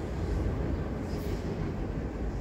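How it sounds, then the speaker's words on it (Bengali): A train passes along a railway line in London, heard as a faint, steady low rumble at a distance, mixed with blustery air. "ট্রেন যাচ্ছে দেখুন।"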